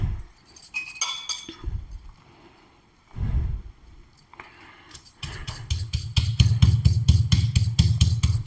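Curry leaves being crushed for a fish curry, probably pounded in a mortar: irregular knocks and clinks at first, then a steady run of rapid, close, fairly loud pounding strikes with no talk over it.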